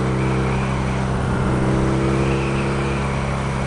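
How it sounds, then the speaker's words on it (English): A 2016 BMW R nineT motorcycle engine cranking on its starter, a steady, loud, strained mechanical whir with a low rhythmic pulse running throughout, close up and with no voices. "that starter seemed like it was struggling to get that thing turned over."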